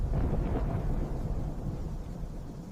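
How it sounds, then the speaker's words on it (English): A low, sustained thunder-like rumble, deep and steady without sharp cracks, fading slightly toward the end. "Thomas heard something strange, a sound like thunder,"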